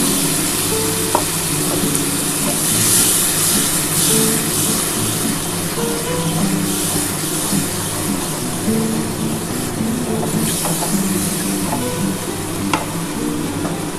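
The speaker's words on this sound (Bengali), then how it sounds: "এবার এই মশলার জলটা আমি দিয়ে দিলাম।" Spiced water goes into a hot pan of fried masala for a tilapia fish curry, producing a loud, continuous close sizzle and bubbling hiss with faint stirring clinks.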